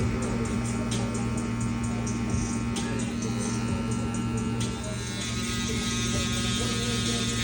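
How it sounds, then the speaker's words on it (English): An electric foil shaver buzzes continuously during a barbershop drop fade haircut, a steady close electric hum with small shifts in pitch as it moves over the skin. "from here, I'm going to be using my foil shaver"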